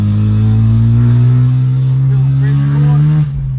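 Rotary-engined car revving loud and close, a sustained buzzy drone with a rising pitch that holds steady, then cuts off abruptly near the end.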